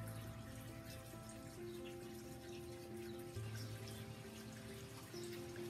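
About 1.5 cups of water pour and trickle from a measuring cup at low volume, a soft continuous splashing with a faint tonal hum in the background.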